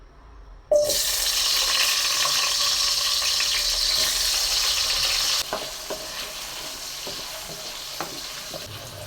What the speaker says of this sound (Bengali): আলুটা প্রথমেই আমি ভেজে নেব একটু হলুদ আর একটু লবণ দিয়ে মেখে নিলাম